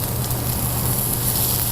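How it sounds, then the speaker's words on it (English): Squash and red bell pepper sizzle steadily in a hot pan, a constant close frying hiss with no pauses. "zucchini, and you hear it sizzling up, you guys."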